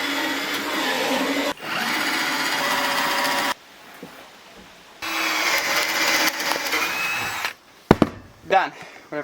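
A power drill whirs in long bursts while installing brackets to reinforce a tiny house roof, stopping and restarting, with a brief quiet gap and some clattering handling noise near the end.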